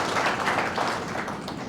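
An audience at a silver jubilee celebration for a knee replacement programme claps to welcome Dr. Meenu Singh, chairperson of Globus Hospital, with a short, dense burst of steady applause.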